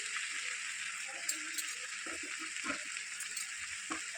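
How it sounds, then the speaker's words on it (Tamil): Coriander and mint leaves sauté in a pan, giving a faint, steady sizzle that runs under a person talking, with a few soft stirring knocks. "ஒரு ரெண்டு கையளவு மல்லித்தலையை அலசி சுத்தம் பண்ணி வச்சுருக்கேன் இதையும் சேர்த்து வதக்கிக்கலாம்"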